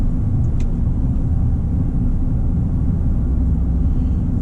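A 2019 Chevy Silverado RST with a 5.3-liter engine cruising along, a steady low rumble of engine and road noise heard from inside the cab, constant and unbroken.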